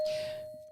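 A single bell ding rings out once, a clear pure tone that fades away quickly.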